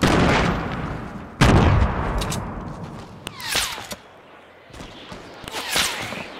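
Sniper gunfire in the video game Fortnite Battle Royale: several sharp, cracking shots spaced a second or so apart, some near and loud, others more distant, over a low rumbling game background with no speech.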